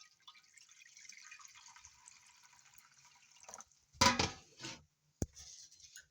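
Water poured from a container into glutinous rice in a cooking pot for biko, a close splashing burst with a few drips and a short clink, following a quiet stretch of faint hiss.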